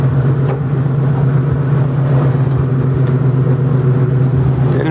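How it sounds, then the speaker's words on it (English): A 1969 Ford Mustang with a 429 engine runs loudly and close by, a steady deep rumble that holds throughout with light revving and no one speaking. "rev it up a little bit"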